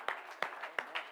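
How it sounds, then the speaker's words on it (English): A church congregation claps hands together in worship, sharp rhythmic claps arriving in a steady beat, with the overlapping claps of many people blending behind them. "let's clap our hands and give the Lord some praise today"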